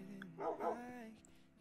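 Tamed dogs in the Minecraft SkyWars game give a couple of quick yipping barks close together, followed by a faint whimper against a steady tonal background.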